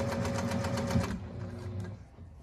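A sewing machine stitches quilt fabric with a fast, even, motorized rattle for about a second, then winds down into softer fabric handling and quiet room noise.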